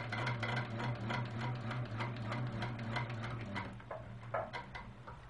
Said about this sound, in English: Let's stitch across this block.